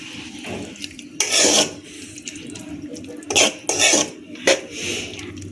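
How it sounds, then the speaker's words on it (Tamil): Beetroot halwa stirred in a pan just after milk is poured in: several loud, rough bursts of scraping and sloshing separated by quieter pauses. "ஊற்றிட்டு கிளறி விடணும்."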